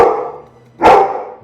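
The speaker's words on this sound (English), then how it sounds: "Do not bark at me." A golden retriever lets out one sharp, loud bark close by, following a fading vocal sound, with no talk over it.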